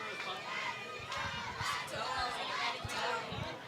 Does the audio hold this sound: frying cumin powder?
no